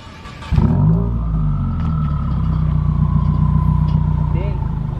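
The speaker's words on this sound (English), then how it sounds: "Let's go ahead and do one more high rev for them before we close out the video for them" A 2015-2018 Subaru WRX engine revs hard through a MagnaFlow axleback exhaust with the muffler deleted, starting with a sudden loud bark and then holding a sustained, droning high-rev rumble close by.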